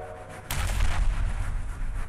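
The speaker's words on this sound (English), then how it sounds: "we have a machine gun" Rapid machine gun fire in a railway-themed shooter game (Rotting Railway) starts abruptly and keeps going as a dense, loud burst with a heavy low rumble, heard alone.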